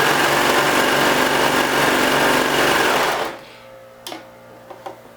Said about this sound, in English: the machine is automatically turning the fabric under as I stitch